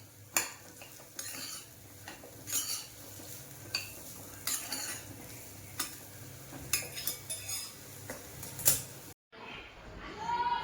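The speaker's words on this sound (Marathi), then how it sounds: "चवीपुरतं मीठ चांगली मिक्स करून घ्यायची" Salt being mixed into a dish with a metal spoon in a pot: steady clinks and scrapes in a loose repeating rhythm, close by, with faint background sizzle, then a brief pause near the end.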